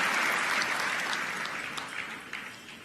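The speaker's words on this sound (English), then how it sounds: "Another round of applause for them, please." An audience at the Rwanda Day 2024 event in Washington DC claps steadily, a dense wash of applause that gradually fades a little, with no voices over it.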